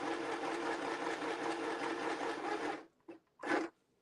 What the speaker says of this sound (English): I'm just going to come in and add another stitch, and I'm going to go over that other stitch